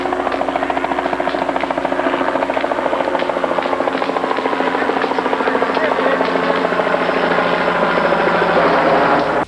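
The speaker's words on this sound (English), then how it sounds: "the helicopters began picking up players and dropping them behind enemy lines" Helicopters fly over a paintball scenario game, picking up and dropping off players; a loud, steady rotor chop with engine whine fills the scene throughout, with a voice heard faintly beneath.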